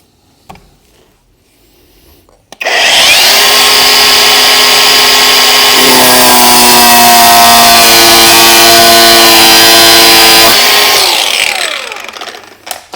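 Power tool cutting a slot into a rounded star drive bolt on a Corsa D rear bumper, a loud sustained high whine that starts abruptly, shifts pitch midway, runs about eight seconds, then stops, close up.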